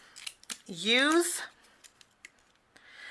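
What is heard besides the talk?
zigzag scissors cutting a white strip of paper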